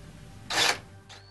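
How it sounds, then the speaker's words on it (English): A 1/8 inch bit drills pilot holes in a golf cart side mirror strut: one loud, close whirring burst of about a third of a second, then a shorter, fainter burst, with quiet between. "Now using the 1/8 inch drill bit, we will make pilot holes."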